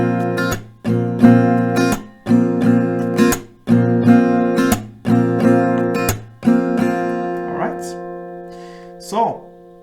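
An acoustic guitar strums a repeating chord pattern from a reggaeton-style song, with rhythmic strokes and short pauses between rounds, ending on a couple of softer strums; close and clear with no talking.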